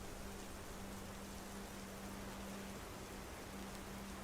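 Steady rain falls on a cold night, a dense, even hiss with no breaks, moderately quiet and with no voices.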